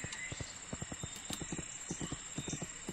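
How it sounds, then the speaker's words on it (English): A horse gallops in the PC riding game My Little Riding Champion, its hooves striking in a quick, regular clip-clop rhythm of distinct thuds over a faint steady background tone. "I use the displayed control again to change to a gallop, and then use it once more to move into the fastest gallop"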